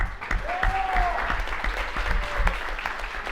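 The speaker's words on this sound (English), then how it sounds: "And can we get a big round of applause for City College, too?" A room applauds City College's team after a CUNY esports match, with dense steady clapping throughout and occasional voices and a whistle-like cheer over it.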